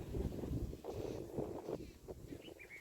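Wind buffets a microphone outdoors on a cloudy, rain-threatening day near a farm well, a steady low rumble with gusts across the whole stretch and faint background activity.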